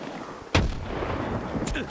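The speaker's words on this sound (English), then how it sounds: "We also have some explosions going on here" A single loud blast in video game combat strikes sharply partway through, followed by rumbling decay and a fainter burst near the end.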